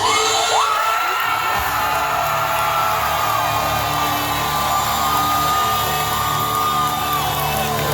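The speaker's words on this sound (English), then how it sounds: "love that we can hear the crowd right here too" A large concert crowd at a show sings along loudly and continuously, a dense wash of many voices with held notes, filling the whole stretch without pause.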